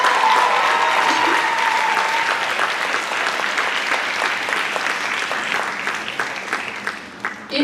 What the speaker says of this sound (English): can you please give them another big round of applause?